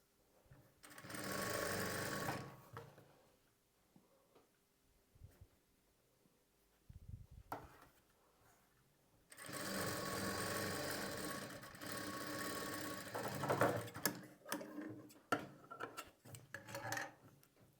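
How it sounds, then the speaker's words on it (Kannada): A sewing machine runs long basting stitches on double-folded blouse fabric, in two short whirring bursts and then a longer run, with quiet handling sounds and pauses between. "ಡಬಲ್ ಫೋಲ್ಡ್ ಮಾಡಿಕೊಂಡು ಇದಕ್ಕೆ ನಾವು ದೊಡ್ಡ ಹೊಲಿಗೆನ ಹಾಕ್ಕೊಳ್ಬೇಕು"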